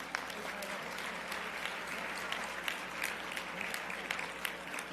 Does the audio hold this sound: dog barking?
no